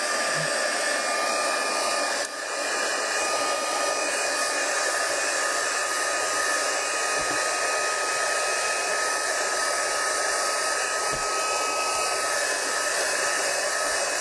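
Hair dryer blowing on a wet handmade card: a loud, constant whirring roar that runs steadily throughout, close and alone, with only a slight dip early on.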